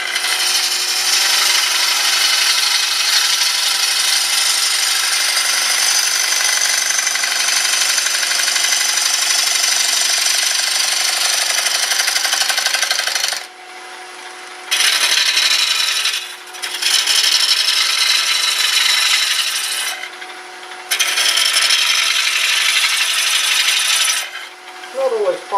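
Wet wood bowl spinning on a lathe as a gouge rubs its bevel against the wood, giving a loud, steady, rushing scrape that drops out briefly several times as the tool lifts off and comes back.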